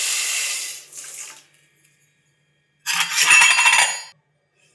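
Water is poured onto sugar in a bowl while making syrup for laha ladva, two bursts of bright pouring and splashing, a shorter one and then a longer, louder one, with silence in between.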